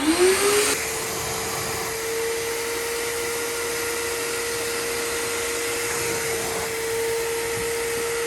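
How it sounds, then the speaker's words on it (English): A steady, whining upholstery extractor vacuum motor starts up and runs continuously, loud and close, with a faint pitch shift partway through, sucking up cleaning solution during car detailing. "You just do the on-off button, and then this will act as a vacuum."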